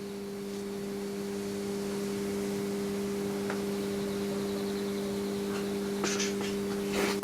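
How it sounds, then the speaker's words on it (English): Landis & Gyr CM 170 electricity meter running under test, giving off a steady low electrical hum with a faint hiss, constant and close for several seconds, with a couple of small clicks near the end and no talking. "Hear that hum, look at those wheels turn."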